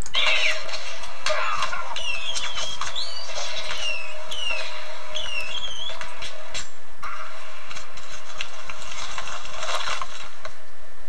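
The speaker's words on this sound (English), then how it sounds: "Okay, so you hear a cat." A cat meows several times in quick succession over a steady mechanical ticking and rattling, the calls clear and fairly close, with no talk.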